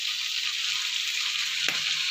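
String beans (sitaw) frying in a pan for adobong sitaw, a steady close sizzle with one brief clack of a utensil near the end.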